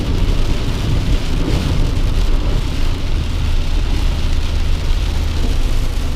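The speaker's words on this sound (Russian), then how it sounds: "Страшный ливень." Heavy downpour with thunder rumbling beneath it, a steady loud roar of rain beating down without a break, close and dense, with no voices over it.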